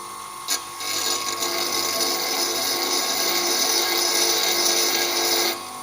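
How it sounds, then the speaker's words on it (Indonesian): A bench grinding wheel sharpening a flat lathe cutting tool: a loud, steady, high-pitched grinding whine held for several seconds, close up, starting and ending with brief clicks. "Oke, batu gerinda ini sudah menyala ya, udah hidup. Oke, kita coba tempelkan si pahat bubut ini."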